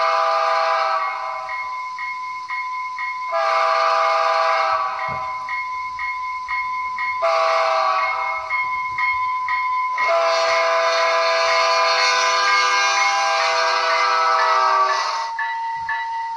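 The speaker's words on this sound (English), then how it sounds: "F3 is your slow Doppler horn." Model Via F40PH-2D diesel locomotive with DCC sound sounds its slow Doppler horn: loud chime blasts in a repeating long-short pattern, ending with one extended blast, heard close with a faint rail hum beneath.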